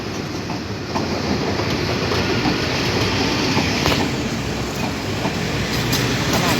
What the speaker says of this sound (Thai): ขบวนที่ 985 ได้ออกจากสถานีรถไฟชุมพรบางซื่อเป็นที่เรียบร้อยแล้ว